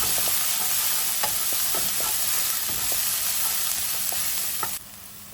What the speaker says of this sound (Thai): ใส่พริกกับกระเทียมลงไปผัดจ้ะ ผัดให้หอมจ้ะ